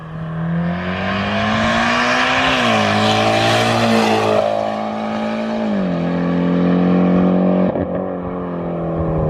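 A Mitsubishi Evo 10 with a straight-piped exhaust and open-dump downpipe roars loudly and continuously, its engine note rising and falling through revs with a deep, raspy drone throughout.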